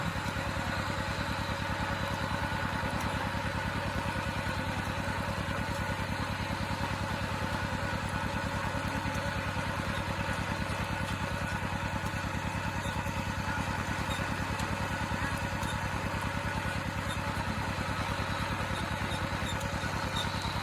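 A Kubota L5018SP farm tractor engine chugs steadily at idle, a constant low rhythmic drone throughout, with no voices.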